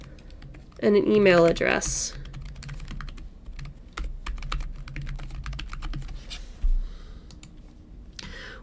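Computer keyboard typing clicks away in quick irregular bursts while entering account details, close and fairly quiet, under someone speaking, with a short louder rustle near the start.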